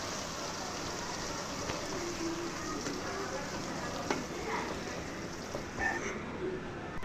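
Mustard and garlic paste frying in oil while being stirred constantly, a faint, even, rain-like hiss of sizzling with occasional soft scrapes, steady and low throughout.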